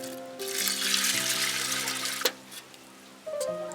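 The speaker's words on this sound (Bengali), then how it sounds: "এবার জলটা দেব" Water poured from a vessel onto chana dal in a pressure cooker, a splashing gush lasting about two seconds over soft background music, then a few light knocks.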